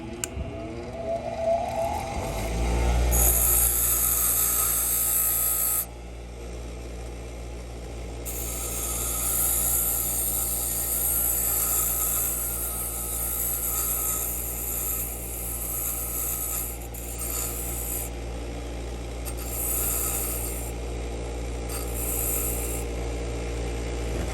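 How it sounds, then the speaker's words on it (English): A bench grinder sharpens a brass key blank for wood window locks, a steady continuous grinding rasp with bright high-pitched whine that drops out briefly and returns, no talking. "I'm gonna go do this on the bench grinder real quick because it's just easier and faster"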